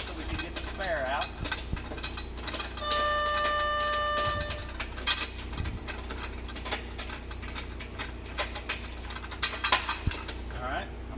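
A scissor jack is turned to unscrew the spare tire holder of a car, giving a steady stream of rapid metallic ratcheting clicks and clanks up close, with a brief tonal hum partway through.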